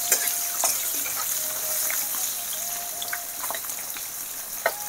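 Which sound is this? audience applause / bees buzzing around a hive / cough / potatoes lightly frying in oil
potatoes lightly frying in oil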